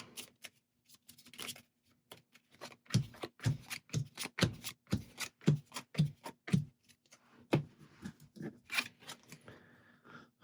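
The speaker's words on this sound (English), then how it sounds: "Give this a shuffle." Cards for the Mini Rogue board game are shuffled by hand close up, a rapid series of crisp flicks and soft slaps in irregular bursts, with light handling rustle toward the end.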